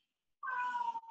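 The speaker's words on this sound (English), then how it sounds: "That was my cat, if you hear it." A domestic cat lets out a single clear meow after a moment of silence. The call rises and then slides down, close by but fairly quiet.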